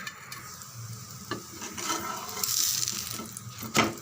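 Rava adai batter sizzles softly on a hot oiled pan, a steady close frying crackle with faint scraping and stirring clatter, no voices.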